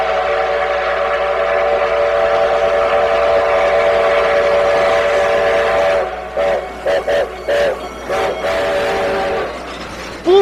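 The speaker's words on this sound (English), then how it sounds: "Engine whistle." A steady, loud train whistle sounds for about six seconds, then breaks into a series of short, sharp toots before one final sustained blast.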